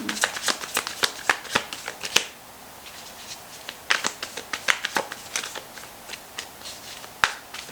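Tarot cards shuffled by hand in a steady run of crisp riffling flicks and soft slaps, close and fairly quiet, with brief pauses between bursts.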